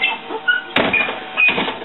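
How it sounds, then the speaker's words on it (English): A school bus service door opens with a couple of mechanical thumps and a sliding clatter. The sounds are close and loud and follow each other quickly, with no talking. "I'm going to open the door."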